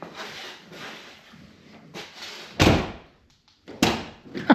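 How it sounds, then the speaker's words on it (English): A door on a 2007-2013 GM truck is worked after a door handle replacement. Latch clunks and rattles come first, then two sharp, loud slams close by, with a quieter click between them. "Let's see if the door opens"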